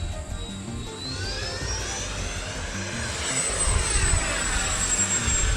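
A jet-type RC model aircraft, an FMS Rafale or Freewing Gripen, roars past in flight, its engine whine rising and sweeping in pitch as it banks and passes close, steady and loud throughout with no talk.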